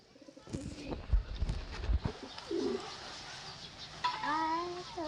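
Pigeons offered for sale in Bengal give soft cooing calls and warbling notes near at hand, while people talk and handle the birds, with some bumps early on.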